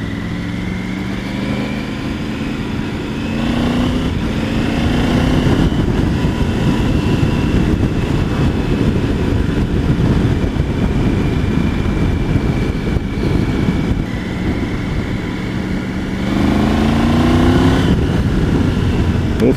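A Triumph Tiger 900 GT Pro motorcycle engine drones steadily as it leans through roundabouts, with the pitch rising and falling under wind rush, close and fairly loud throughout.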